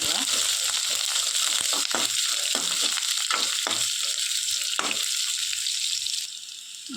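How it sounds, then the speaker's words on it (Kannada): Small chopped onions and green chillies frying in hot oil for eggplant palya, a loud, steady close sizzle with a few stirring scrapes, fading near the end. "ಫ್ರೈ ಮಾಡುವ."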